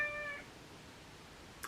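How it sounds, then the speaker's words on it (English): A cat meows briefly at the start, a short tonal call fading within half a second, then near silence in a quiet room. "He might be meowing occasionally."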